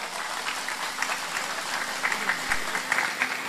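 Scattered applause from an audience at an Islamic sermon gathering in a village, a soft, steady patter of hands with a few louder claps near the end, heard from within the hall.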